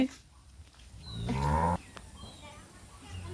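Cows on a farm, with one low, drawn-out moo rising close by for about half a second amid rustling, while people talk nearby.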